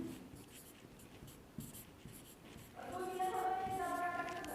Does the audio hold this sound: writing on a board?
yes